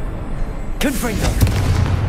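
A Confringo spell in Hogwarts Legacy fires with a sudden whooshing crack and a short booming burst, followed by a sustained crackling rumble.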